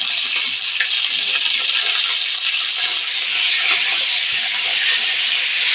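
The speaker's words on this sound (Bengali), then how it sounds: "এইভাবে আমি অল্প করে ভেজে নেব।" Potatoes frying in a pan with onion and green chili, giving a steady, loud sizzling hiss that holds evenly from start to finish with no talk.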